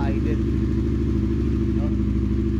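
An engine idles steadily throughout, a continuous low rumble with a regular pulsing beat, close by and loud from start to finish.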